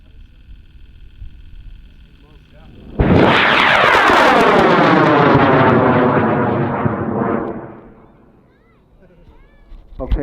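A high-power rocket called Metal Storm, flying dual deploy, lifts off at a Green River, Utah launch with a sudden loud roaring blast that holds for several seconds and then fades into the distance; people can be heard talking before ignition.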